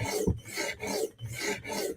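A blade is drawn across an 80 grit abrasive while being sharpened, giving a series of gritty rasping strokes, close and moderately loud, repeating about every half second.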